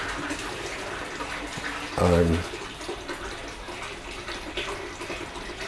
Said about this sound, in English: If that running water in the background is making you feel you need to go to the toilet